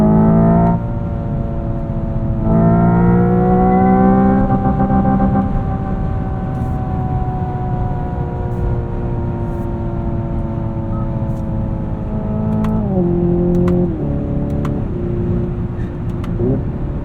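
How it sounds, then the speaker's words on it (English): A 2025 Hyundai Ioniq 5N electric car plays simulated high-performance engine sounds while driving, a loud continuous synthetic drone with tones that climb and drop at gearshift-like steps, close up and steady throughout. "High performance sound effects."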